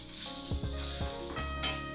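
Chopped onion hits a pan of frying garlic, cloves and cinnamon, giving a steady close sizzle with a few sharper crackling bursts as it settles in the hot oil.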